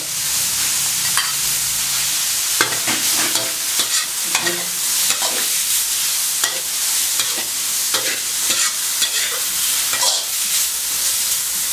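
Beef sizzles and is stirred in a hot pan with pickled bamboo shoots, a steady loud frying hiss broken by repeated scraping and clattering strokes of the spatula throughout.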